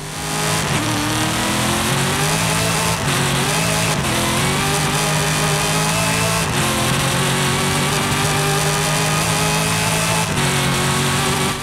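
A Dodge Hellcat Widebody sports car engine in a video game revs hard and continuously, climbing in pitch through several gear shifts with brief dips between them, loud and close.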